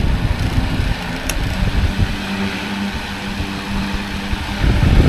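12-inch DC table fan running close by, a steady broadband whoosh of air with a faint motor hum, its level shifting slightly near the end as the speed is changed.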